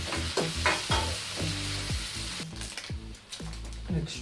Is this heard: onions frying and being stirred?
yes